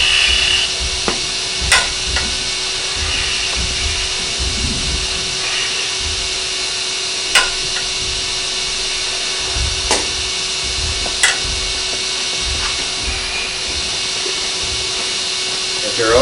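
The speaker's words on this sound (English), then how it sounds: "I'm rolling my spindle gouge up on the side, just doing a shear cut." A steady whirring hum of a spinning wood lathe with a gouge hissing against the wood, broken by occasional sharp ticks and knocks.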